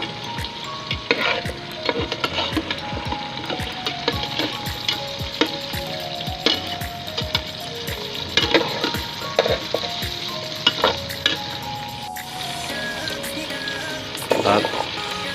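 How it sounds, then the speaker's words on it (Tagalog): Potatoes frying lightly in oil for chicken caldereta, a loud continuous sizzle with frequent crackling pops and spatula scrapes against the pan, close up and without speech. "yan naman pong ating patatas ay prituhin po natin ng bagya"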